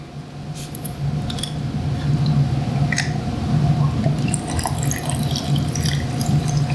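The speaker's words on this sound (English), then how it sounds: "And then just some sparkling water on top." Sparkling water poured over a vegetal juice cocktail at an outdoor food and beverage demo, a steady fizzing, splashing pour with light crackle, continuous and fairly close amid low background hum.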